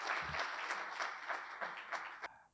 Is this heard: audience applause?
yes